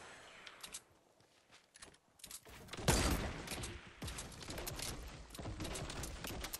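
Bursts of Fortnite gunfire during a squad fight: quiet scattered clicks and steps, then a loud blast followed by clustered volleys of shots.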